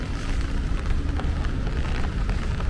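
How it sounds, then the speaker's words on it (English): Steady rain falls on a Brooklyn street between Crown Heights and Brownsville along Eastern Parkway and Pitkin Avenue, a continuous hissing wash over a low rumble of city traffic, with no voices. "Remember, it is raining now"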